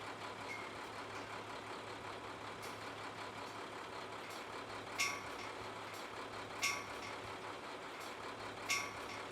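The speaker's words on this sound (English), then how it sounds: "The truck is then free to continue to move back very slowly" A brine spraying truck reversing very slowly, its engine idling steadily while reversing beeps sound at regular intervals, three clear beeps over the low rumble.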